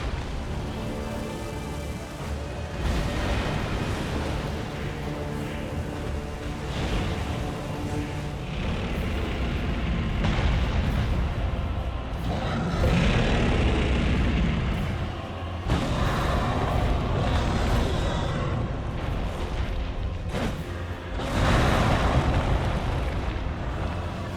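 Deathrite Bird explosion in Elden Ring Nightreign: a long, dense roaring rumble of blasts and booms rolling on for over twenty seconds, heavy and loud, with surges and swells throughout.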